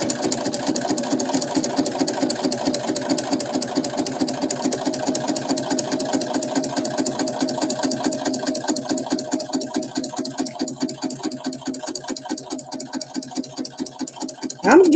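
A sewing machine stitches at a fast, steady rate, its needle chattering rhythmically and close by for the whole stretch, with a brief knock at the very end.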